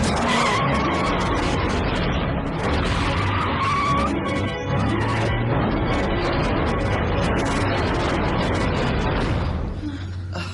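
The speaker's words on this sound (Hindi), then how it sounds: "अब जल्दी से गाड़ी स्टार्ट कर।" Car engine revving and driving off with tires skidding, loud and continuous with a squealing, roaring rush, in an animated Power Rangers Dino Thunder action scene.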